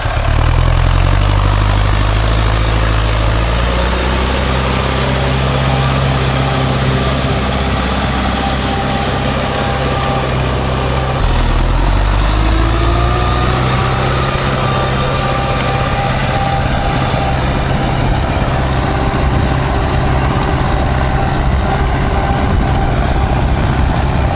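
A loud tractor engine labors continuously while plowing a field, its pitch shifting as the load changes, with no talking over the steady mechanical roar.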